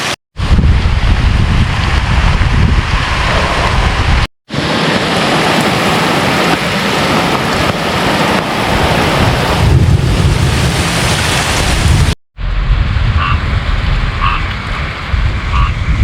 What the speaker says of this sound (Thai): ฝนตกทุกคนตอนนี้ฝนตก